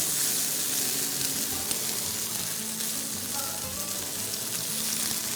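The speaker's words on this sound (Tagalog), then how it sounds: "Para maluto na natin yung rest of the chicken. Konting-konting oil ulit." Chicken pieces frying in a little oil in a pan for honey garlic chicken, a dense continuous sizzle and crackle heard up close, with faint stirring and no talk.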